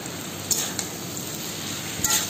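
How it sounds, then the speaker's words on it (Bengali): Steady, hissing sizzle of chopped ginger and spices frying in oil in a pan, continuous and close, broken by a few light metallic clinks of a utensil against the pan. "আদা কুচি যেগুলো ছিল সমস্ত কিছু দিয়ে ভালো করে ফ্রাই করতে হবে"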